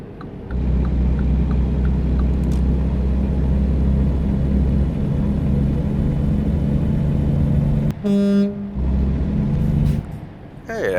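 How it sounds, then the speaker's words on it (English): A Volvo truck in American Truck Simulator drones along with a steady low engine rumble, then a short, sharp air horn blast near the end cuts in before the engine hum resumes, with someone talking. "Hey, it actually has an air horn"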